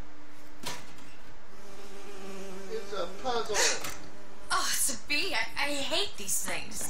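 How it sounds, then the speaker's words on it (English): Buzzing bee in the video game BioShock Infinite, a thin insect drone weaving under game music and characters talking, with sharp bursts of sound effects near the end. "Oh, it's a bee."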